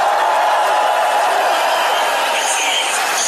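A large Hungarian crowd cheering for President Trump, a dense, steady roar of many voices holding loud and continuous throughout, with faint whoops rising near the end.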